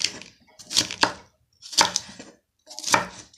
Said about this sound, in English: Peppers cut lengthwise, just like French fries.